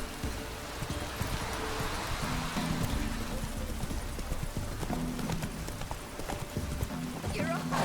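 Roach, the horse in Witcher 3, gallops steadily with rapid rhythmic hoofbeats throughout, close and prominent, while a voice speaks over the running.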